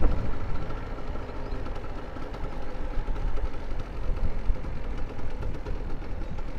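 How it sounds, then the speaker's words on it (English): The gas engine on a DIY stand-up scooter idles with a steady, low, even rumble, close and unbroken, with no talk over it. "Right now we're just idling."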